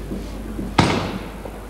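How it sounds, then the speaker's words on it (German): A single sharp, booming black-powder gun salute shot rings out once against a steady outdoor background at a street parade, its echo trailing off for a moment. "was Sie hören, war so kracht, das sind die Böllerschützen."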